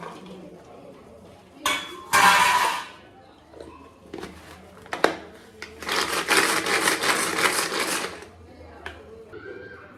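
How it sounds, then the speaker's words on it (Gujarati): An electric chopper chops onion, garlic, ginger and chillies for a soya tikki in short loud whirring bursts, two brief pulses then a longer run, with quiet gaps and faint clinks between. "હવે આપણે ચોપરમાં ડુંગળી, લસણ, આદું અને મરચાં ચોપ કરી દઈએ."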